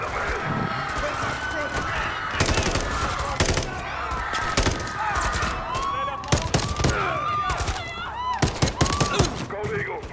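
Bursts of automatic gunfire in Call of Duty Modern Warfare III, loud cracks and rattles that come and go, with a few sharp whistling tones and other battle noise.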